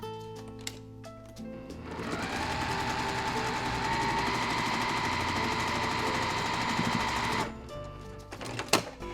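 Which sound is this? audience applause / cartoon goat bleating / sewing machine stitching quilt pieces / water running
sewing machine stitching quilt pieces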